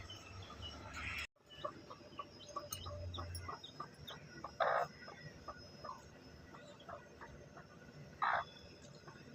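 A hen clucking softly in short, scattered bursts, with a couple of louder squawks and light outdoor ambience; no one speaks.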